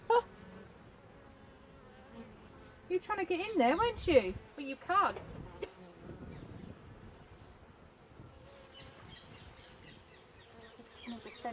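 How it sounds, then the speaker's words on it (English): A wasp buzzes around a beehive being readied for winter, its faint, intermittent whine sitting under a person speaking close by. "Oh, I just killed a wasp."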